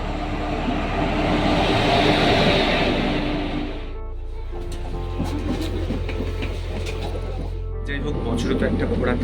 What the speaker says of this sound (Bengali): ট্রেনও এসে গেছে একদম সঠিক টাইমে।